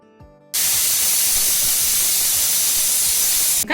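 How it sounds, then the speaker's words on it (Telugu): A pressure cooker on high flame releases steam after sweet dough balls are cooked inside, a sudden loud, steady hiss that holds for about three seconds before cutting off abruptly. "హై ఫ్లేమ్ మీద 1 విజిల్ రానివ్వండి."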